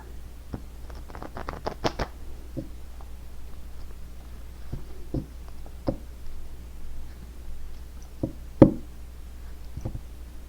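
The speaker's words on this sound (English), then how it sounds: "Shuffle these cards one more time here." Playing cards being shuffled by hand, with a quick burst of riffling flicks early on, then scattered soft taps and shuffles in a quiet room, one sharper knock near the end.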